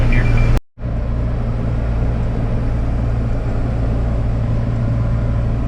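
A car drives past on a narrow country road, a steady broadband roar holding close and loud after a brief dropout at the start, with no talk over it.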